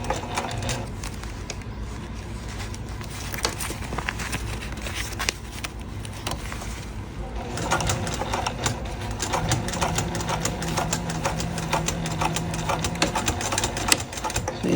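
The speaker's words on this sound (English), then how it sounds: "So you start stitching here, and then you kind of have to move the fabric and continue." A sewing machine stitches fabric for a flat pouch, its rapid mechanical needle chatter running steadily and close by with brief pauses where the fabric is shifted, and no talking.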